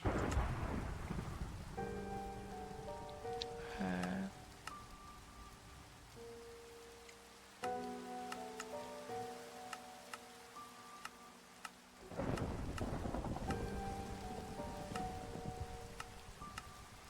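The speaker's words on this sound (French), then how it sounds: "Il y a un éclair, il s'est écrasé juste à côté." Steady rain falls throughout a video game thunderstorm, with loud thunder cracks bursting in at intervals as lightning strikes close by, alongside scattered game tones and chimes; no talking.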